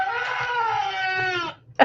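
A goat lets out a single loud, drawn-out scream at close range, lasting over a second before cutting off abruptly.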